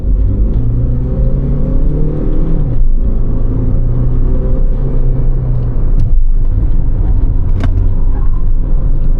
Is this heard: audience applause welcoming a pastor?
no